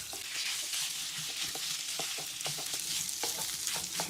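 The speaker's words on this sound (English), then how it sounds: "Just breaking the meat up." Pork broken up and stir-fried in a pan: a constant bright sizzle with repeated scraping and stirring clicks from the utensil, close and steady, no talking.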